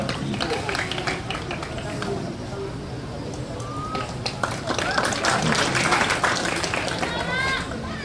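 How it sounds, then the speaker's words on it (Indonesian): Children clapping at a sports contingent ceremony featuring gymnastics, a sustained mass of hand claps spread across the clip, moderately loud, with chatter and voices mixed throughout. "Ini tepuk tangan kamu lagi ya."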